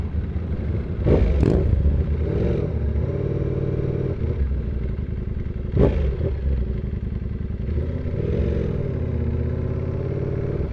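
Sport motorcycles such as a Yamaha R6 and a Kawasaki ZX6R idle loudly at a bike night, with two sharp throttle blips rising above the continuous engine rumble and clatter.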